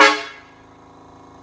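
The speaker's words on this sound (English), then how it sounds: "So the right button is the train horn" A truck-mounted train horn gives one loud, brassy blast that cuts off quickly, leaving a fading ring under low background noise.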